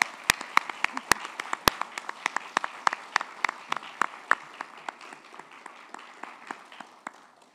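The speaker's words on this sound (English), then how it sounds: "Let's give them a huge round of applause." An audience claps at the 45th C.J. Mackenzie Gala of Engineering Excellence at the University of Saskatchewan, with dense overlapping claps that start loud and thin out to scattered sparse claps near the end.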